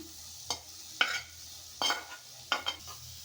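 Fried cluster beans are stirred into a simmering gravy for an aloo curry, a utensil scraping the pan in four or five distinct sweeps over a low sizzle.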